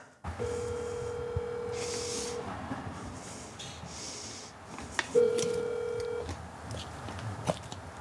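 A telephone line tone sounds while a call is being placed: two long, steady electronic tones separated by a pause, heard over a hissy background with a few soft clicks.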